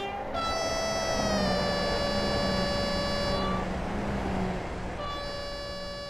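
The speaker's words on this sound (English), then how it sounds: "Yeah, the horn. It sounds like it's looping." A train horn sounds in Train Simulator 2018 on a North Wales coastal route: a loud, sustained multi-tone blast that breaks off briefly and resumes over steady rolling rumble.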